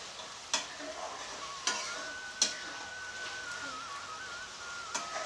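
A spice paste loosened with a little water cooks in a pan with a soft, even sizzle, punctuated by four distinct spatula knocks against the pan.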